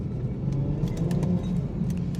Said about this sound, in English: Let's give the car a little bit of power.